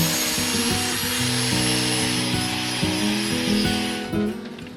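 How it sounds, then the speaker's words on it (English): An angle grinder sands epoxy filler on a fibreglass boat hull, a continuous loud whirring drone with a shifting pitch as the disc presses against the surface, then easing off near the end. "an epoxy filler that once set, I got stuck into with the grinder to get it ready to lay more fiberglass"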